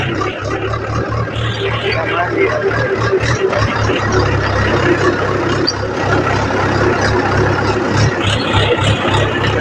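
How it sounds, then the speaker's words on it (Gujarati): A tractor engine idles close by with a steady low rumble and rhythmic chugging throughout, a few voices faintly mixed in. "આપણે ટ્રેક્ટર પર લઈને લેવાય"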